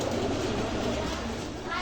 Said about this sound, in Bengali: এই দেখেন আন্ধ্রা লাইনের কালাঙ্গা চোখের পায়রা আছে।